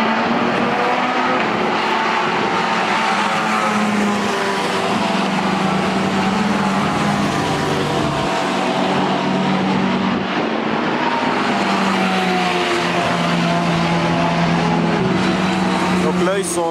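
Ferrari 296 GT3 and Lamborghini Huracan GT3 race cars at Spa, with engines and exhaust droning loudly and continuously, steady revving tones rising and falling as cars run, with speech heard over the roar.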